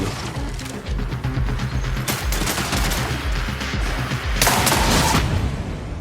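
Dense, sustained gunfire from a weapon in the video game Marathon, rapid loud shots rolling together almost continuously with sharper bursts of impacts, no talking.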